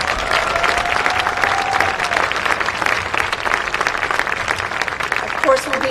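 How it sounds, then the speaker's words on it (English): A crowd applauds steadily at a park groundbreaking ceremony outdoors, the clapping dense and continuous for several seconds, fairly loud and close. "they deserve a huge round of applause right now"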